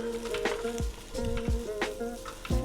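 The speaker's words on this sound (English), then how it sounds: "we're going to turn off the heat and just keep stirring" Scrambled eggs in a pan with the heat off are stirred with a utensil, giving a few soft scrapes and taps over a faint lingering sizzle, close and quiet.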